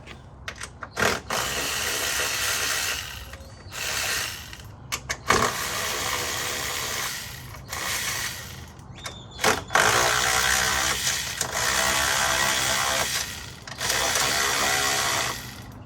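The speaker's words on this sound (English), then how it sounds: "Let me loosen those strut tower nuts and just loosen them." A ratchet wrench loosens the strut tower nuts on a car, repeated bursts of close mechanical clicking and pawl chatter with short pauses between strokes, no talk.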